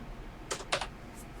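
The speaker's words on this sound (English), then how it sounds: "Type this in, of course." Quiet typing on a computer keyboard, a few soft keystrokes clustered in a short burst, faint and close in a still room.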